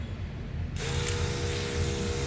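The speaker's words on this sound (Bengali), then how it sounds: "এখন শুধু খালি ফাঙ্গি সাইড দিতে পারো আপনারা" Fungicide is sprayed onto a lemon tree in flower: a sudden, steady hiss of spray starts after a short quiet moment and continues close and loud to the end, with no talking.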